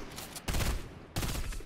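Two loud sniper rifle shots in a Fortnite battle royale match, close and sharp, spaced under a second apart, each followed by a brief ringing decay.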